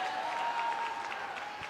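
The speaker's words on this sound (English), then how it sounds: "Come on, sisters, clap it up for her." Applause from a gathering of Black women at a morning political conference session, a steady wash of clapping for a speaker heard from a distance, fairly even and without a break.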